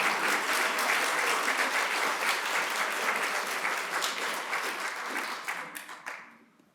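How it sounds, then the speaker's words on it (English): Sustained applause from a live audience at a book festival, a dense, even wash of many hands clapping that fades out toward the end. "I got applause, you did."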